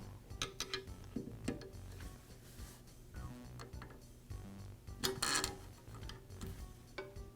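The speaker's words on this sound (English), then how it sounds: "I'll use a screwdriver to gently pry it away." A screwdriver pries an old air nozzle out of the housing of a DeWALT scroll saw, giving a run of small plastic clicks, ticks and scraping rattles at close range, with a louder burst of clatter partway through and no talking.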